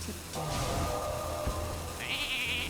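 A sheep bleats in the Hearthstone arena card game, a short game-sound cry heard clearly over a steady layer of game music.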